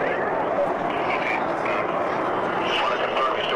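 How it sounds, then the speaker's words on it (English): Concorde jet taking off and accelerating at a 1980s airshow in San Diego, a broad, steady roar heard from a distance and sustained throughout at an even level, with crowd noise faintly beneath. "the Concorde just cleared the area and accelerating"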